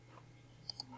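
Computer mouse right-click, two quick faint clicks close together over a low steady electrical hum.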